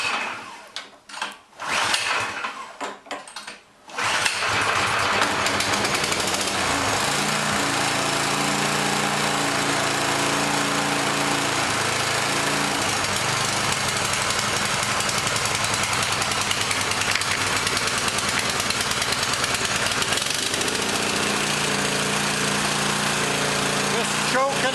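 A Yardworks snowblower engine started by pull cord: a few sharp cord pulls and sputters, then the small engine catches and runs loud and steady at close range for about twenty seconds.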